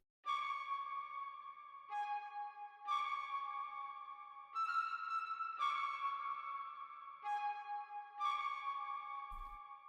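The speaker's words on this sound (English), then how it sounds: "I added a clip distortion and chroma glow to make it sound like deep and distorted like a trumpet, and it sounded like this." Tone run through clip distortion and Chroma Glow processing, giving a buzzy, trumpet-like character in a short melodic phrase of sustained notes, faint and isolated with no voices.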